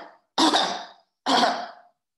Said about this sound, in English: When a tiger moves through the forest, the langur calls, just like an old man coughing.